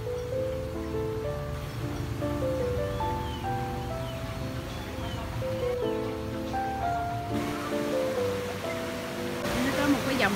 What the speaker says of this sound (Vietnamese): Dòng suối dài từ ở đâu nó chảy ra đây không biết, nhưng mà nó dài lắm.